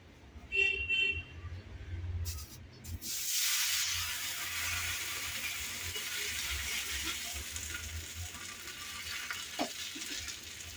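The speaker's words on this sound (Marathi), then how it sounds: "आणि हे थालीपीठ सोडूया." Upvas thalipeeth laid on a hot griddle greased with ghee, a brief clatter followed by a steady, soft sizzle that continues evenly to the end.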